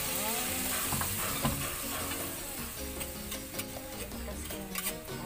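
Shrimp-extract broth goes into a hot pan where fish is cooking, a lively close sizzle with stirring scrapes and light ticks of a utensil, steady throughout, no talking.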